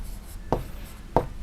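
Chalk writes numbers on a classroom board in three short, crisp scratching strokes, close and clear with no talk.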